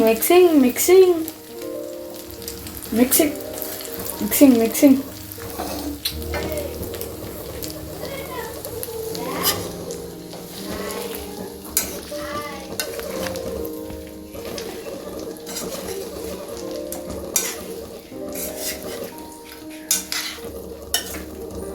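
Chicken pickle being mixed and stirred in a pan, with soft scraping and a light sizzle under intermittent talking, plus a few scattered clinks of utensil against the pan.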